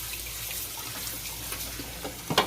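Hands being washed under a running kitchen tap. The water pours and splashes steadily at close range, with a louder splatter near the end. No one talks.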